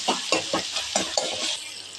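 Onions and tomatoes sautéing in a pan, several quick spatula scrapes in a loose rhythm over a bright sizzle, close and moderately loud with no talking.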